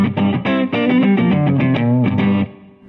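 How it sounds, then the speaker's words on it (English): Clean electric guitar played through a Boss GT Pro multi-effects processor, a run of strummed chords ringing loud and close, then decaying into a fading sustain. "Here's some clean."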